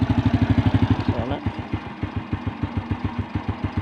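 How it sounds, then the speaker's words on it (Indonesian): A motorcycle engine idles steadily with an even, rapid chugging pulse, close and clear, with no voices present. "Suara mesin masih adem."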